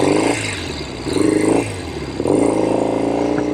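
A 1970 Royal Enfield Interceptor 750 Mk II motorcycle engine runs up close and loud, its revs swelling and easing in a few surges over a continuous mechanical rumble.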